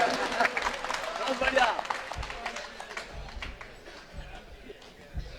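A crowd claps at a Hindi humorous poetry stage show in Chittorgarh, Rajasthan, a scattered burst of applause loudest early and then thinning out, mixed with a speaking voice.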